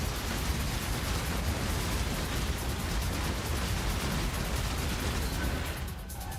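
Ritual balls detonating in the Path of Exile video game make a steady, dense roar of bursts and rumbling. It sounds like continuous explosive noise that holds the same loudness throughout and eases slightly at the very end.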